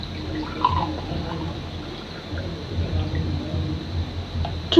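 A steady stream of water trickling and splashing into a cooking pot for boiling rice, continuous and close, with faint background clatter and no talking.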